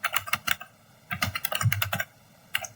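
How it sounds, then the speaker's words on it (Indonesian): A command is typed on a computer keyboard while configuring a network switch, with quick clusters of sharp key clicks in bursts separated by brief pauses, close and clear. "Ketik no IP"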